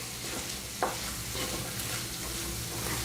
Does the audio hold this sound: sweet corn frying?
yes